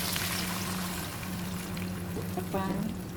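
Water poured into a cooking pot of chicken and saluyot (molokhiya) leaves, a steady splashing pour with faint background sizzle, close and fairly loud, briefly joined by a voice near the end.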